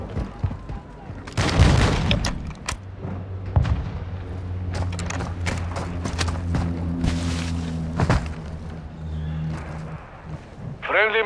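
Gunfire in Call of Duty Modern Warfare II DMZ: scattered bursts of shots and heavy thuds ring out at close to mid range, mixed with booms and a droning hum while radio-style voices talk over the fighting.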